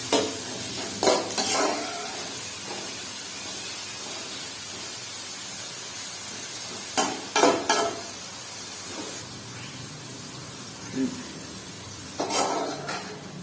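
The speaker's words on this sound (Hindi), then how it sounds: "प्याज को हमने ब्राउन नहीं करना, हमें इसे बिल्कुल लाइट सा ब्राउन करना है।" Sliced onions frying in a small amount of oil for bhindi salan, cooked only to a light brown, give a steady low sizzle with several bursts of stirring and pan scraping spread through the clip; no one talks.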